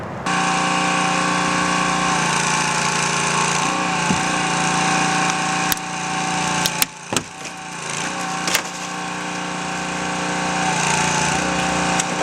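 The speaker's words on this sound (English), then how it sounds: "our next step now is to cut the top of the B-post and swing it all out" A hydraulic rescue cutter works through the top of a car's B-post during a sidewall removal at a vehicle extrication. A steady, loud mechanical drone runs throughout, broken by a few sharp cracks and snaps as the metal gives way.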